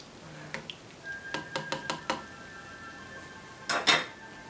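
A metal pot is lidded and shifted off a trivet on a homestead wood stove while beef stew cooks, with a string of sharp clinks and clanks followed by a louder scraping clatter near the end.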